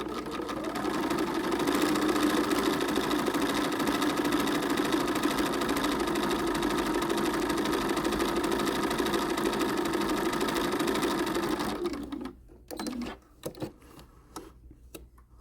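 Domestic sewing machine running steadily at regular stitch length over a basted hem on doll jeans, a continuous loud whirring hum for about twelve seconds, then stopping into a few brief clicks and handling noises.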